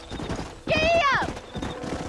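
A horse in the video game Red Dead Redemption 2 gives a short rising neigh amid quick clip-clop hoofbeats, with people talking around it.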